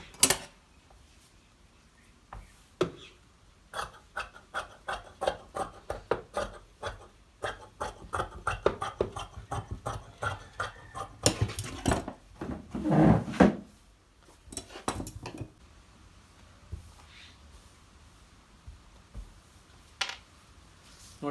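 Scissors snip through blouse fabric in a run of short, crisp cuts that bunch together in the middle, with some louder rustling of cloth, close and alone, then sparser clicks toward the end.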